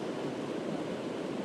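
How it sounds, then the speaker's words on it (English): Water rushing over a small weir on a Peak District river, a steady, dense, close roar of broadband rush that fills the whole moment without pause or variation. "you've got a little weir which is probably drowning out my audio"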